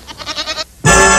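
Cartoon goat bleating in a 1967 Uncle Scrooge animation: a loud, close, wavering bleat pulsing in several quick beats, then a brief gap and a sudden harsh, sustained burst.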